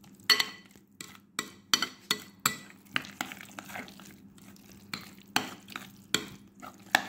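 Food frying in a pan, a soft steady sizzle beneath a series of sharp clinks and scrapes from stirring, close and fairly quiet, with no talking.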